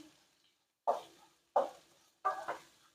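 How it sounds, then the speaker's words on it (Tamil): Beans and peanut stir-fry is stirred in a pan in three distinct scraping strokes separated by brief quiet gaps, with a light sizzle beneath, close and fairly soft. "பீன்ஸு வேர்க்கடலை பொரியல் நல்லா கிளறி விட்டுக்குருவோம்"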